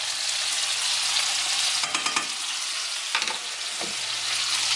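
Minced garlic fries in a pan with a loud, continuous hiss, broken by a few short stirring scrapes.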